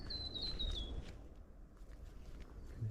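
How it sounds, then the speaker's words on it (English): A wild bird gives a short series of high, thin chirping calls in the first second beside a freshwater lake track near Double Island Point, faint and distant over footsteps and outdoor rustle. "I could probably identify that bird for you"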